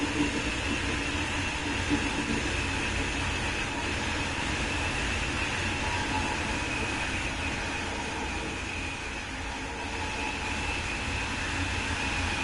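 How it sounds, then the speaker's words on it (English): A Deutsche Bahn ICE train in Train Sim World 5 on the Kassel-Würzburg line gives a steady, continuous rumble with a broad rushing noise and faint tonal whine that stays even and unbroken throughout, with no voices over it. "It's a beautiful train."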